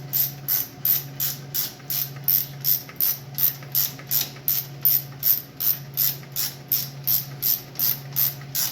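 A hand ratchet clicks in a steady, even back-and-forth rhythm while tightening bolts on a Farmall 560 tractor, close and clear, with short regular bursts of ratcheting and no talk.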